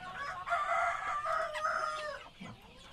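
Roasting-size chickens for sale at a market, clucking and crowing steadily and fairly loud, with overlapping calls close by and no talk.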